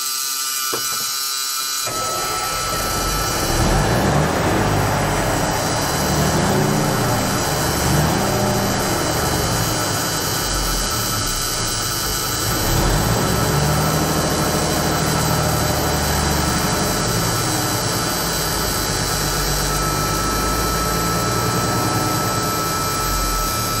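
A long-idle Autocar semi truck's engine runs steadily after a fuel filter change, a loud, continuous diesel drone with rising and falling revs as the throttle is worked, close by and without talk.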